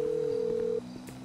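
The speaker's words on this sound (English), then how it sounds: "Answer the phone, Goofy." A phone call tone in GTA 5: a steady electronic tone sounds alone for under a second, then cuts off, leaving a fainter lower hum.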